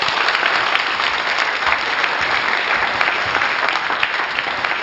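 An audience applauds at a televised Korean civic talk event on Seosan city communication, a dense, loud and continuous clapping that fills the room.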